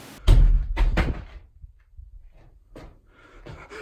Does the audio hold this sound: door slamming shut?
yes